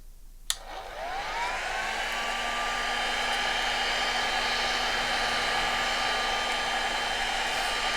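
A hot air blower heating a foam spiral starts with a click and spins up into a steady, loud, whining whoosh that holds constant, close by and alone.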